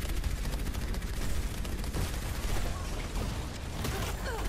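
Rapid gunfire from Widowmaker's rifle in the Overwatch shooter, a dense, loud barrage of overlapping shots and game action with no pauses.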